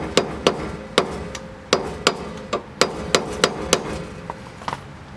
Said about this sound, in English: I got a flat chisel here.